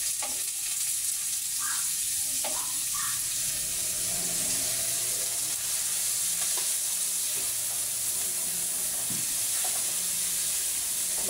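Onions sauté in a pan for carbonara, with a constant soft sizzle and a few clinks of stirring near the start.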